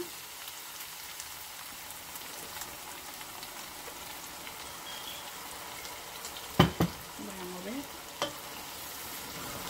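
Chorizo sizzles in a pan as green salsa goes in, a soft continuous frying crackle with a few sharp utensil clatters and scraping stirs partway through.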